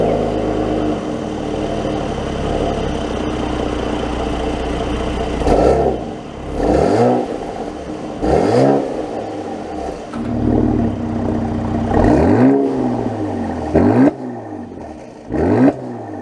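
A 2022 Mercedes-AMG C43 Coupe idles with a low rumble, then its engine is revved in a series of sharp, loud blips that rise and fall back, close by and with no talking.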